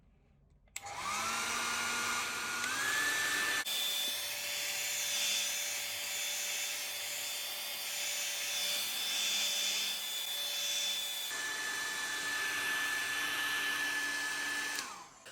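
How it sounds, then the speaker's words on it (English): A heat gun or hair dryer whirs up and blows steadily for a long stretch, heating a Google Pixel 3 back panel, with a high whine, briefly changing pitch before winding down. "Use a heat gun or hair dryer to heat up the surface of the back panel."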